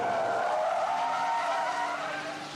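Tires of a Ford Contour or Mystique screech in a sustained skid on a test track, a loud steady squeal that holds for the whole moment and fades slightly at the end.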